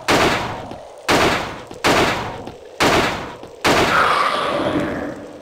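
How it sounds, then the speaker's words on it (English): Gunfire in the video game Euro Demo 72: five heavy, evenly spaced shots roughly a second apart, each a loud blast with a short decaying tail, the last ringing out longer. "Now let's shoot him."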